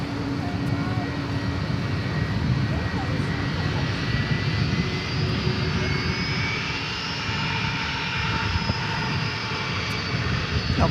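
Aircraft engine noise from a plane at DFW airport at night, a steady broadband roar holding loud and continuous throughout, with faint background voices.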